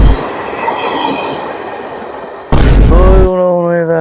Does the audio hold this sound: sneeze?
no